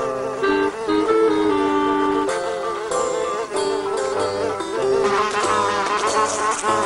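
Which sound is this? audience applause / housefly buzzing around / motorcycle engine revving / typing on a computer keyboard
housefly buzzing around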